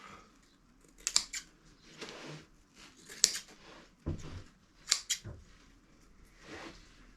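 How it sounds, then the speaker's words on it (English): Scissors trimming excess upholstery fabric on a dining chair: four or five crisp, close snips spaced about a second or two apart, with faint rustling of fabric between cuts in a quiet room. "Trim the excess off."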